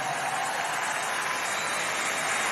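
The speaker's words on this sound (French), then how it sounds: "Acclamez très fort pour le roi de roi." A church congregation applauds loudly and steadily, with dense, continuous clapping and no pauses or talk.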